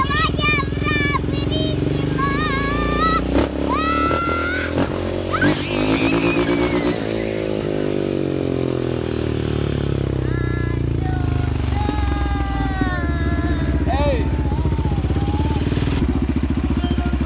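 A Yamaha Raptor 700 ATV engine idling along at walking pace, a steady low motor drone running underneath nearly continuous talking and whistling voices, with a few clatters and thumps.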